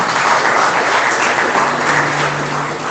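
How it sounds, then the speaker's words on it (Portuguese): Sustained audience applause at a church service, a steady dense wash of clapping from a large congregation lasting throughout, loud and close. "E para dar mais aplauso ao Senhor Jesus."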